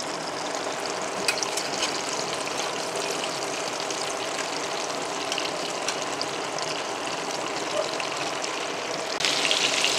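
Marinated chicken tikka pieces frying in a frying pan, a steady, even sizzle that holds at constant loudness throughout, with faint crackles and a slightly brighter burst near the end.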